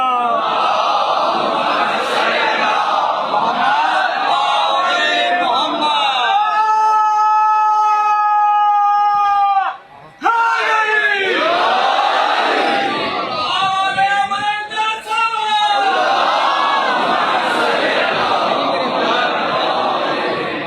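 A crowd at a Majlis gathering in Sindh in Pakistan chants salawat and religious slogans in unison, loud sustained group voices with a rising and falling rhythm, and a brief pause midway before the chanting resumes.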